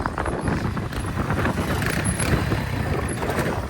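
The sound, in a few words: old Honda CB100 motorcycle engine while riding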